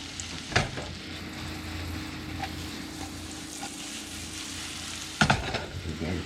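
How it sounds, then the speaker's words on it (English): Sliced portobello mushrooms sautéing in a pan over medium heat, a soft continuous sizzle punctuated by two sharp clattering tosses near the start and end, no voices. "Saute for a couple minutes on medium heat."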